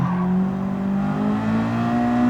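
A Honda Civic SiR in Gran Turismo 7 accelerates out of a corner at Tsukuba Circuit, its engine note holding a steady, loud, rising drone from start to finish with no voices.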